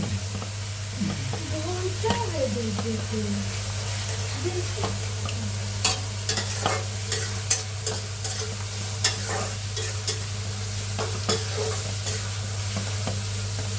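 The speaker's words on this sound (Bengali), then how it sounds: "এগুলো সব মিক্সিং করে ফেলি" Cow brain being stirred and mixed in a frying pan, with a steady sizzle throughout and repeated sharp scraping and tapping of the utensil against the pan, while a voice talks briefly near the start.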